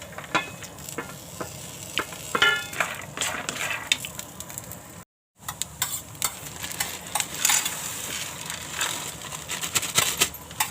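Peanuts roast in a little oil in a pan with a steady sizzle and dense dry clicking and rattling as they are stirred, broken by one brief silent gap midway.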